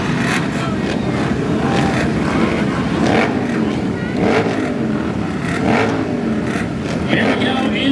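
Fifteen flat track motorcycles race a Mission AFT SuperTwins main event at Ventura Raceway, engines droning and rising as they pass, with a commentator talking over the steady roar.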